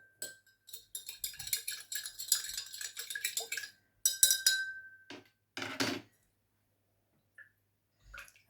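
A spoon clinks and scrapes against a glass while stirring red cabbage indicator mixed with bicarbonate of soda, giving quick bursts of light tapping that pause and resume, close and fairly quiet.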